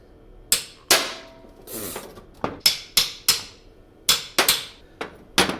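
A hammer strikes a car starter motor during removal, about a dozen sharp metallic blows coming in irregular bursts, each loud impact ringing briefly before the next.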